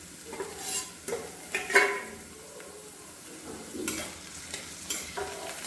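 Chopped tomatoes sautéing with potatoes over a low gas flame for a seven-grain khichdo, giving a soft, steady sizzle with occasional stirring scrapes and light pan clinks, fairly quiet and close.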